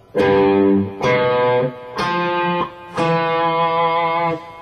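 Lead guitar with a distorted, effects-laden tone plays four sustained notes from Bach's Cello Suite No. 1 Prelude, each note ringing loudly and evenly before the next, with no voices.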